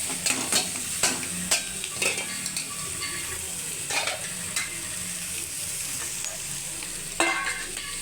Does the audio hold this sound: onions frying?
yes